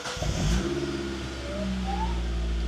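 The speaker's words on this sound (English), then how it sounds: "She's gonna start her car and make sure everything's all good." A Mazda NB Miata engine cranks and fires after a fuel pump replacement, catching quickly and settling into a steady close idle with a slight rising whine, no talking.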